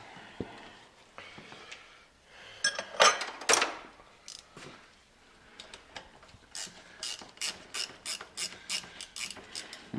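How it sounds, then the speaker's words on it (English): A ratchet backs out bolts on the transmission of a Smokey and the Bandit Trans Am being LS-swapped. A few scattered clanks come first, then a quick run of sharp, close ratchet clicks near the end. "We can get these bolts out far enough to let that whole deal drop out of there."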